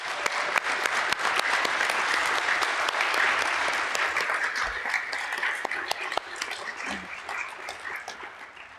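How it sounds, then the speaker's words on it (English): A church congregation gives volunteer breakfast cooks a round of applause: dense, steady clapping from many hands that holds for several seconds, then gradually softens and thins out. "let's give all the volunteer cooks a round of applause."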